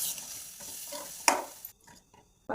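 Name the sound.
stirring pav bhaji in a pan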